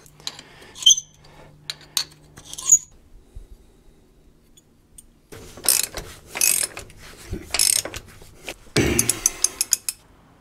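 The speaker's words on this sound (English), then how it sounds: "I think this is the right size tap." A thread tap ratchets into bolt holes on a Caterpillar D4 bulldozer, with close, irregular clicking and metallic scraping in bursts separated by quiet pauses.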